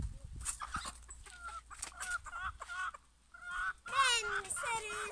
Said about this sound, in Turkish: Arkadaşlar şimdi bir tane daha tavuk yakalayayım.